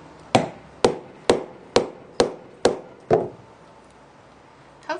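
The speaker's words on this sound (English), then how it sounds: "Then you're going to give it several whacks with a hammer." A hammer strikes a grommet punch tool held against clear vinyl for porch enclosure, seven sharp evenly spaced whacks, close and loud, followed by a pause and one lighter tap.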